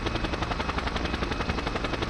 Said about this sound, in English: Hey, I know how to fly a helicopter.